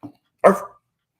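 A man imitates a dog barking with his voice, one short loud woof after a faint brief lead-in sound, then silence.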